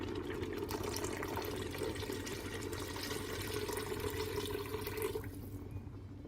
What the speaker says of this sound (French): Donc là, je viens recouvrir avec de l'eau.